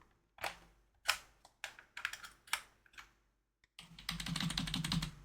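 Scattered single keystrokes on a computer keyboard, then a quick dense run of typing near the end, close and clear with no talking.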